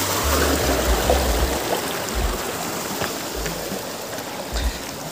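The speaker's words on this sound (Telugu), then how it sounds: "చిన్న water fall, mini water fall" A small waterfall tumbles into a natural pool, giving a continuous close rushing and splashing of falling water, steady throughout with no talk.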